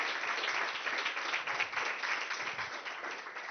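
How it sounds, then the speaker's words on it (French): An audience applauds steadily and fairly loudly throughout at the wrap-up of an international conference, with dense, continuous clapping and no break. "lève-toi Marais et que tout le monde l'applaudisse"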